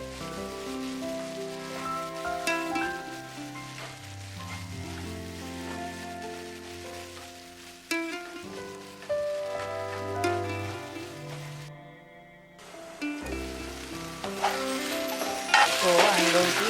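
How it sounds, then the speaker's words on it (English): Red chili, coriander and cumin powders stirred in a frying pan over continuous close sizzling and frying, with scraping stir strokes and a brief drop-out before the sizzle returns louder. "add the red chili powder and coriander and cumin seeds powder too. Give it a nice stir."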